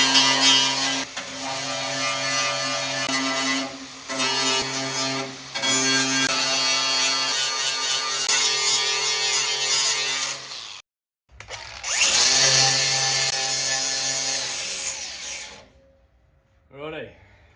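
A power grinder works back the metal of a rear wheel well on an XA Coupe, loud and close with a steady high whine broken by short pauses and restarts before spinning down near the end.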